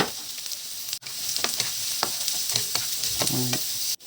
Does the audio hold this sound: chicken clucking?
no